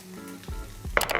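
Carrots and corn stirred into a pan with chicken for a creamy zuppa soup, giving a brief close sizzle that swells near the end with scraping stir sounds.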